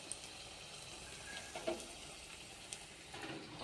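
Thin potato slices dipped in gram flour batter fry in hot oil with a soft, steady sizzle and occasional small pops and crackles, quiet and close.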